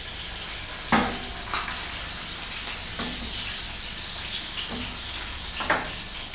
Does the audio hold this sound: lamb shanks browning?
yes